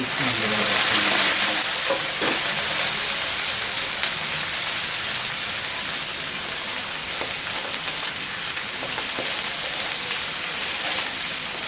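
Whole kidneys dropped into a pan with onions already fried red, frying in a loud, dense sizzle that crackles steadily throughout, with a few louder spits near the start.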